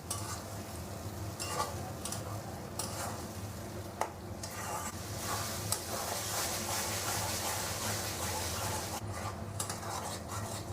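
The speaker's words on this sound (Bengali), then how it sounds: "আদা 20 গ্রাম, রসুন 25 গ্রাম, আর হলুদ 4 চামচ ছোটো চামচে একসাথে এবার ভালো করে কষিয়ে নেব" Ginger, garlic and turmeric sizzle and fry in a pan for a Bengali mutton trotter curry, with steady crackling and frequent scraping stirs of a utensil against the pan, clinking sharply now and then.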